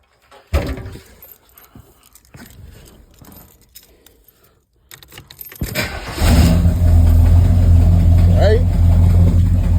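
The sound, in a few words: Chevy 350 engine cold start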